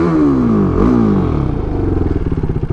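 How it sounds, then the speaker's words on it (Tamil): A KTM RC390 motorcycle engine revs, its exhaust note rising and falling and then settling into a rough, pulsing idle, loud and close with no voices over it. "இந்த ரா பவர் ஃபீல் தெரியுது எக்ஸாஸ்ட் நோட்டில்"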